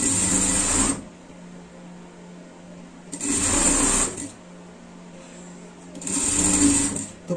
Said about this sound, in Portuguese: Estamos costurando uma peça com duas cores.